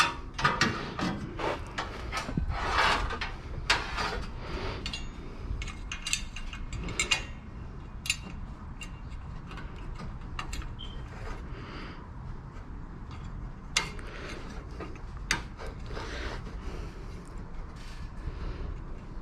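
A latch being fitted into a car body during welding repairs: close, irregular ratcheting clicks and metallic mechanism taps with scattered sharp knocks, steady throughout.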